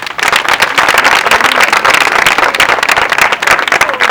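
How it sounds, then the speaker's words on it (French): An audience at a youth training workshop in Cotonou applauds loudly, a dense, sustained burst of many hands clapping at once that fills the whole stretch. "spécialement Monsieur Luc Sertondi Atropo, que je vous prie d'applaudir à nouveau."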